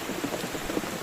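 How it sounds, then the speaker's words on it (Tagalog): Heavy rain pours down in a forest during a typhoon, a dense, steady hiss with scattered droplet patters, continuous and fairly close, with no voices. "sobrang lakas talaga ng ulan guys"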